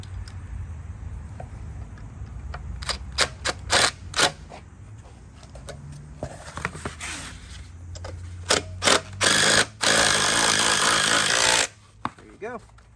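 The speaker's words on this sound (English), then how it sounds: "Impact with a socket head on there." An impact driver with a socket head drives fasteners into a modern pergola frame, several short loud hammering bursts with one long sustained run near the end, between quieter handling noises and faint talk.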